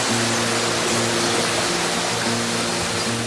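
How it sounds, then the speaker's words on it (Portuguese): A waterfall in the Atlantic Forest pours steadily, a loud, dense, unbroken rush of water with a faint low hum beneath it. "queda d'água de uma cachoeira"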